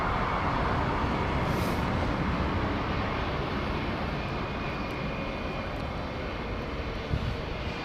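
A jet airliner on an intersecting departure at London Heathrow Airport roars steadily, a loud, continuous engine rush filling the scene from start to finish without letting up.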